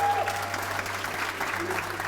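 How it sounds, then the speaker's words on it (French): An audience applauds at a small festival held in a former church, a steady sustained round of clapping from a modest crowd, fairly close, with faint voices mixed in. "On peut leur donner une bonne main d'applaudissements"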